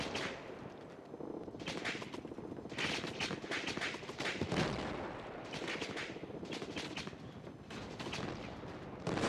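Bursts of rapid gunfire from the video game Polyfield crackle in repeated clusters of shots, loud and close, with brief gaps between volleys.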